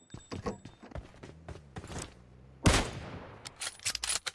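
Gunfire in the mobile shooter Battlegrounds Mobile India comes as a scatter of sharp single shots at low volume, with one louder, longer blast near the middle and further quick cracks after it.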